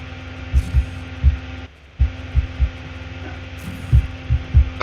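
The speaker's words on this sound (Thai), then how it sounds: "ได้ยินไหมว่าเสียงใคร เสียงคอมเอง" A computer gives off a steady electrical hum with a fixed low tone, broken by soft rhythmic thumps and a brief dropout near the middle. The sound is close and continuous, with no voices.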